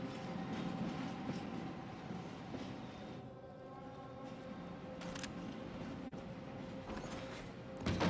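Video-game train rolls by steadily with a low rumble and faint rhythmic clatter of wheels, quiet and continuous for several seconds, no talking.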